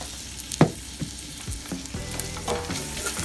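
Ground beef frying in a pan for a Turkish pea stew, with a spoon stirring and scraping through it: steady close sizzle broken by several sharp clinks and scrapes against the pan.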